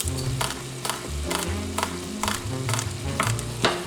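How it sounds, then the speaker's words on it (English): Ground beef frying in a pan on a home kitchen stove, giving a steady close sizzle with repeated scraping stirs at roughly half-second intervals and no voices. "we'll just cook this until the ground beef is cooked through"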